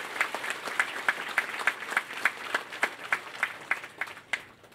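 A crowd in Tanauan, Leyte claps in a regular rhythmic beat, sharp evenly spaced hand claps roughly three per second, moderately near, continuing steadily before tapering at the end.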